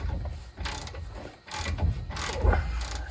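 A long socket wrench ratchets by hand while loosening a bolt during a lift kit install on a 2001–2010 GM/GMC 2500HD pickup. Rapid clicking comes in repeated strokes, close and fairly loud, with brief pauses between pulls.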